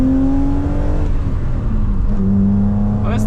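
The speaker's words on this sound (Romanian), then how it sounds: "e un motor cu headere modificate, fără catalizator și automat are un timbru mult mai plăcut" A BMW 3 Series engine with modified headers and no catalytic converter revs loudly and close, its steady droning tone shifting pitch through the rise and fall, with a brief higher whine near the end.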